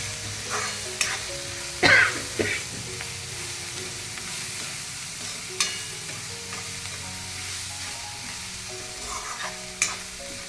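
Green vegetable stir-fried in a home kitchen pan, a soft steady sizzle with occasional clinks and scrapes of a spatula stirring, fairly close, with no talking.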